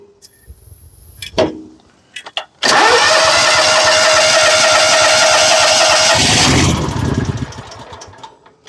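Kawasaki engine on an Exmark zero-turn mower cranks a few times, catches with a loud roar, runs roughly for a few seconds, then sputters and dies away.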